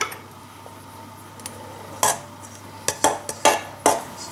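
A utensil clinks and scrapes against a bowl as flour and salt are mixed for homemade pizza dough, with quiet at first and then a cluster of sharp, close knocks toward the end.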